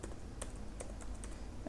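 Code being typed on a computer keyboard: quick, irregular clicks and taps, several keystrokes close together, over a low steady room hum.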